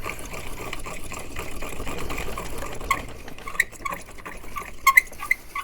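Hornady case trimmer with a .45 pilot cutting 450 Marlin brass cases, a steady buzzing whir with quick irregular scraping clicks near the end, close and moderately loud.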